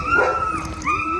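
A dog seeking resources during a behaviour session lets out high, wavering whines and yelps, rising and falling in pitch, close and fairly loud.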